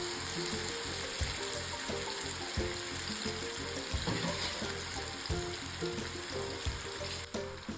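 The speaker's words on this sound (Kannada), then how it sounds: "ಪ್ಯಾನ್ಗೆ ಎಣ್ಣೆ ಹಾಕಿ ಅದು ಕಾದ ಮೇಲೆ ಫಿಶ್ನ ಹಾಕಿ ಫ್ರೈ ಮಾಡಿ." Fish fries in hot oil in a pan for a spicy South Indian tawa fry, a continuous close, loud sizzle and crackle with bubbling pops throughout.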